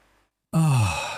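A small capacitor-powered electric model plane motor spins its propeller, kicking in suddenly with a loud whirring buzz that slides steadily lower in pitch as it winds down.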